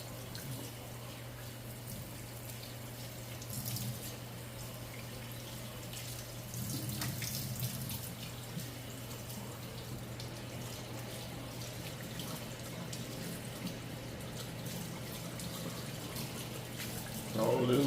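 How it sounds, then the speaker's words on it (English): A kitchen tap runs steadily while raw chicken feet are washed under it, a faint, constant water flow with a low hum beneath and slight splashing changes. "you want to make sure you wash off your meat real good"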